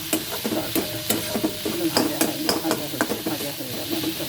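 Spices frying in a pan for a Bengali egg tadka: a continuous sizzle with repeated sharp scraping and stirring knocks, close and fairly loud, with no talking.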